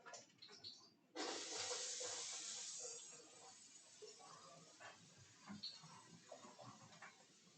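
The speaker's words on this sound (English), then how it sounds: "We'll get a sizzle now" Onions drop into a hot pan and burst into a loud, bright sizzle that slowly settles into a steady crackling fry, with faint background sounds.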